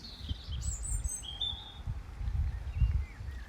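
A European robin sings outdoors at a fishery near Wakefield, giving thin, high warbling phrases at a moderate distance over steady low wind rumble, with no one talking.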